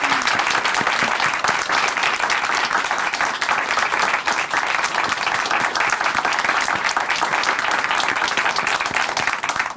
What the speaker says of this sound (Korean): 박수로 응원해 드리겠습니다.